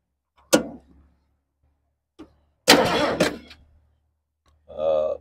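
A 1972 Ford Ranchero cranked by hot wire: a sharp click, then a loud burst of engine cranking lasting about a second, followed by a short pause and another mechanical whir, with quiet gaps between.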